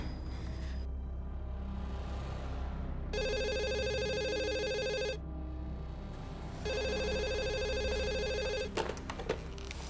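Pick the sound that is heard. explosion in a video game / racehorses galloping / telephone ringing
telephone ringing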